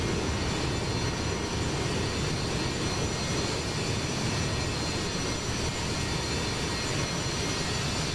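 Steady, loud broadband roar of Boeing 727 airliner jet engines in Microsoft Flight Simulator 2024, a constant dense drone with no talk over it.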